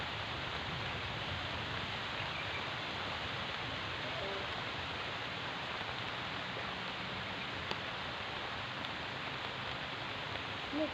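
Heavy rain falls steadily in rural surroundings, an unbroken wash of hiss that holds even and fairly loud throughout.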